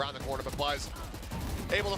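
Rapid gunfire from a Valorant esports match between ZETA and DRX on the Sunset map, crackling in short bursts beneath continuous excited commentary from casters.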